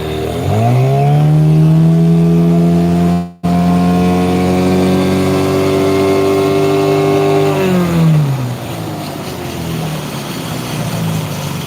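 Mercury outboard boat motor idling and running, a steady engine drone with a throttle rise near the start and a drop in pitch later, loud and close with no talk.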